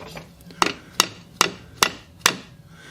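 Hammer tapping on parts of a Briggs & Stratton engine being converted to an air compressor, five sharp metallic knocks at an even, unhurried pace, close and alone over a faint background.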